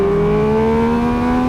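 Triumph Speed Triple 1200 RS motorcycle engine held at a steady, loud rev, a continuous droning hum with strong harmonic tones that rise slightly over the short stretch.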